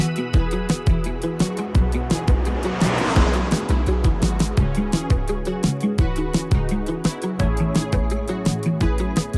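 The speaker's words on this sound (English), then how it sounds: "The engine note I'm hearing at the moment is obviously emphasised through the speakers" MINI Cooper S John Cooper Works in boost mode, its engine note steady and loud throughout, with a rhythmic pulsing pattern and a brief swell of roar midway.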